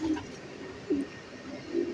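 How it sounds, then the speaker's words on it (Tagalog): Racing pigeons arriving home after a 133 km road training release give soft, low coos, three short murmurs faint against a steady outdoor hiss. "Marami na tayong ibon."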